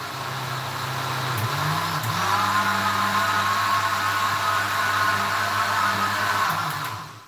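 A blender whirring through a carrot punch mixture, a loud continuous motor drone with shifting pitch as the load changes, running steadily before cutting off at the end.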